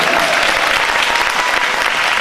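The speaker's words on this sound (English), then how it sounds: "How about a round of applause for low brass and Lorraine?" Loud, dense applause from a large audience at a fifth grade winter band concert, steady clapping throughout with no pauses.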